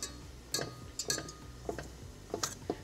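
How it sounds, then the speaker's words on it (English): Wire whisk tapping and clinking against a metal pot set over water while mixing Swiss meringue, giving sparse, quiet metallic ticks in irregular clusters. "And then I'll take my whisk."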